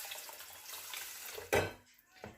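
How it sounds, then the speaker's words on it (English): Cold water poured from a tap over about 150 grams of lentils in a pot: a soft running splash under faint background noise, then a sharp louder gush near the end followed by a brief clunk. "you want to just add cold water"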